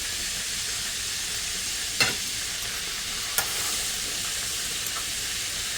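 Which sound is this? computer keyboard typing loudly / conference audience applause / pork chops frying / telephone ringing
pork chops frying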